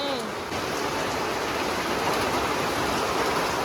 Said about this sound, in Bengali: দেখো বাইরে কি বৃষ্টি হচ্ছে টিনের চালের ঝমঝমানি আওয়াজ